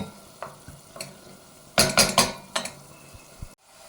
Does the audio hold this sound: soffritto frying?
yes